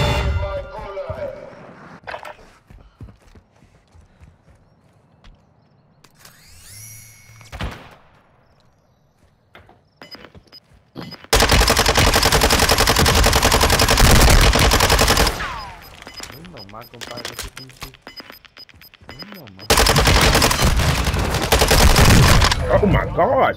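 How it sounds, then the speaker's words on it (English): Gulag fight in Call of Duty: Warzone 2.0, with quiet gaps of scattered clicks and a voice, then two long, loud stretches of continuous automatic gunfire, the second after a brief pause. "How many times you gotta shoot this dude, man?"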